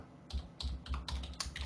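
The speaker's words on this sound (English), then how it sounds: "I am typing" Typing on a computer keyboard, heard as irregular bursts of close, crisp key clicks with short pauses between them over a quiet background.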